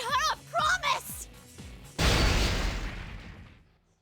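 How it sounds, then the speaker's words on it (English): A small explosion ruptures in the video game Persona 4 Arena Ultimax. A voice speaks first, then a sudden loud blast hits and its rumbling roar fades out over about two seconds. "a rupturing sound like a small explosion shakes the entire room"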